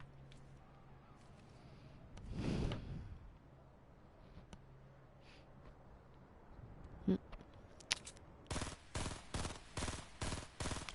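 Rapid bursts of automatic gunfire in a video game rattle out near the end in an even series, following quieter scattered game noises and a faint hum earlier.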